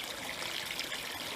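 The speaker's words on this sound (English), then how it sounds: "The tank was filled with water to about 3/4 inch from the top." Water pours steadily into a hydroponic growing tank, a continuous close hiss and trickle with no breaks or voices.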